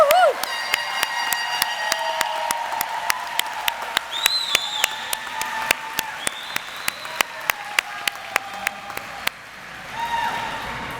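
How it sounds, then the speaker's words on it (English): A commencement crowd at the James H. Groves Adult High School Sussex Center applauds the graduates, with clapping that falls into a steady rhythmic beat. Scattered whoops and cheers rise over it before it tapers off. "how about we give another round of applause for all of these graduates?"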